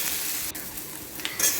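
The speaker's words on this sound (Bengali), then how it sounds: "বন্ধুরা, এবার এটাকে ভালো করে একটু ভাজা ভাজা করে নিতে হবে।" Okra frying in a pan for a spicy Bengali dish, a steady broadband sizzle with a few faint scrapes of a spatula against the pan.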